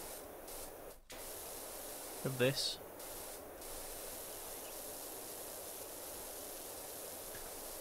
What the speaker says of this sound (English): Let's spray on the